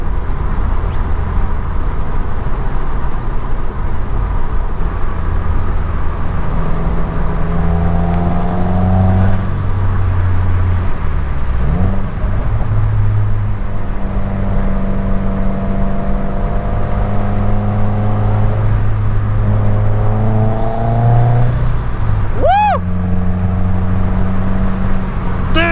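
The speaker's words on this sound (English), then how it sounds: "driving a sports car that sounded like this through the mountains" A Subaru WRX sports car on a mountain drive, its engine droning loud and constant from inside the cabin, rising and falling through revs with shifting tone, plus a short sharp squeal near the end.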